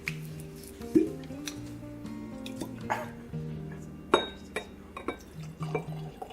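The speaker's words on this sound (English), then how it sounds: "So you want to pour the rye and I'll pour the wheated" Rye whiskey pours and trickles into a glass in short bursts with small drips and glassy clinks, close by and moderately quiet, with occasional faint background murmur.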